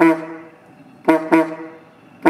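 The horn of a 1915 Ford Model T sounds three times, short nasal honks with buzzy tone, the first and last clipped, the middle pair close together.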